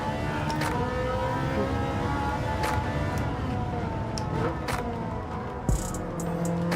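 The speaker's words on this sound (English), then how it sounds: "This car just makes such a glorious noise." A Ferrari F40 in Gran Turismo 7, its engine droning loud and constant with shifting revs and a few sharp transient pops from gear changes or bumps.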